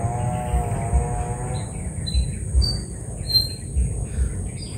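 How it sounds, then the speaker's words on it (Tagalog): Several birds chirping in short high tweets scattered across the clip, over a low rumbling background, fairly faint and intermittent. "Mga kuhan ng ibon, mga huni ng ibon talaga."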